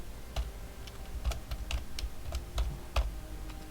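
A computer keyboard is typed on in a steady, unhurried rhythm, each keystroke a distinct close click over low background hum, while a character gets renamed in ADOM.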